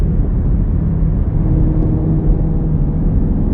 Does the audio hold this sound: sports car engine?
yes